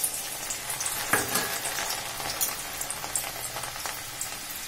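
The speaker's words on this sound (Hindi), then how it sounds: "तेल हमारा हाई गरम हो गया है, थोड़ी सी दाल लेंगे, डालेंगे कढ़ाई में" Chana dal crackles as it fries in very hot oil in a kadai, a dense steady sizzle with a sharp burst of spatter early on and scattered pops after.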